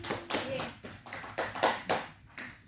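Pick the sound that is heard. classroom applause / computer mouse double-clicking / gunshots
classroom applause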